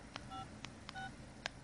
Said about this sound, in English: You dialing on the phone.